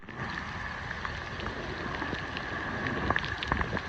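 Hail and rain pouring down during a storm south of Taif, a dense continuous hiss with scattered sharper ticks of hailstones striking surfaces, fairly loud and steady throughout.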